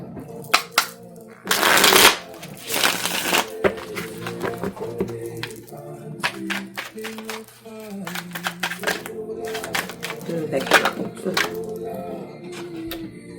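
Tarot card deck being shuffled by hand, with repeated riffling and flicking bursts and soft tapping close by, while someone talks in the background.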